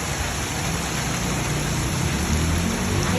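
Heavy rain falling, a dense, steady hiss that stays loud and unbroken throughout.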